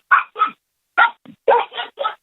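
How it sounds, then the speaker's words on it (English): A dog barks at the mailman in a quick run of about six sharp, loud barks with short gaps between them, close by and clear, with no talk over them. "Yeah, that's a dog. The mailman just got here."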